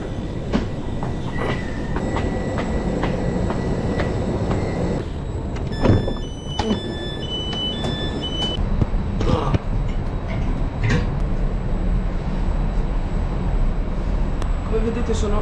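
Steady rumble and rattle from inside a Trenitalia regional train (service 12027) in motion, with continuous wheel and carriage noise, occasional clacks and faint squeaks, and voices faintly in the background.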